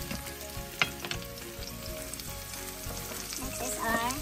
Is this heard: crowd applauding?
no